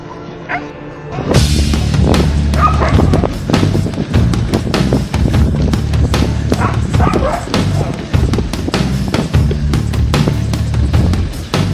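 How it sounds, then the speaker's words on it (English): Several excited dogs bark and yip rapidly and loudly, almost nonstop after a quiet start, with clattering movement mixed in. "You are the most excited of all the dogs."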